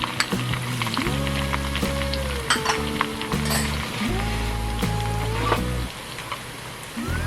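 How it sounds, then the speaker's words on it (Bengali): Ginger and onion paste frying in a hot pan for a giant prawn (golda chingri) bhuna: a steady, dense sizzle runs throughout, with a tuneful melodic tone underneath. "আদা বাটাটা দিয়ে দিলাম। পেঁয়াজ বাটা দিয়ে দিচ্ছি।"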